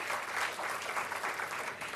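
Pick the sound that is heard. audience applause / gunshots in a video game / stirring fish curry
audience applause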